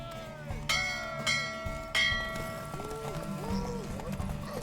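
Horse hooves clip-clopping in The Witcher 3, a steady trotting rhythm of hoof beats close by, joined by bright bell-like chimes and game voices talking over it.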